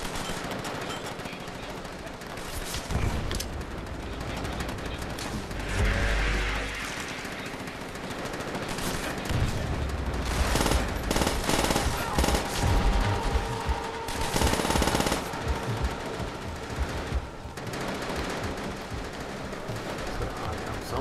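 Sustained gunfire in Call of Duty: World at War, rapid machine-gun bursts and single shots rattling on and off for about twenty seconds amid explosions and battlefield noise, with occasional voices.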